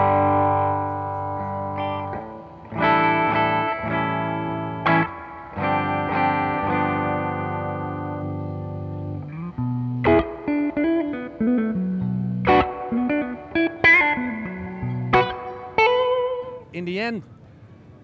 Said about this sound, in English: Apparently you don't need to have like a push-pull to get like a single coil sound out of a Lola humbucker